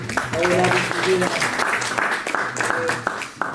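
A crowd applauds steadily for a few seconds while a voice talks over the clapping.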